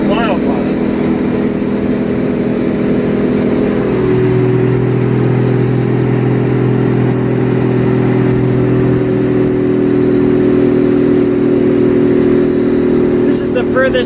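A carbureted car engine on its first drive after a new carburetor install runs steadily throughout, its low, even hum settling into a deeper tone partway through, with light cabin noise around it.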